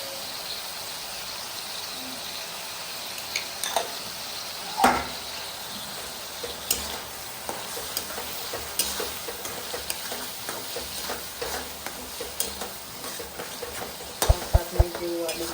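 Tomatoes with turmeric and salt sizzling in a pan, a steady soft frying hiss broken by occasional stirring clicks and taps, close and fairly quiet with little talk.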